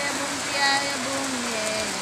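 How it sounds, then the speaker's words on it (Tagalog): Steady, dense rain hisses on a surface, a constant wash of drops with a faint voice underneath. "Lakas po nung lakas po nung ulan dito"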